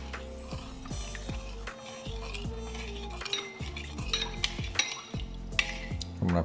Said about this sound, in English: I'm gonna give this a nice quick stir.